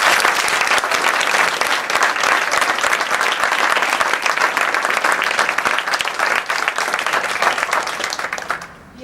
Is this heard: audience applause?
yes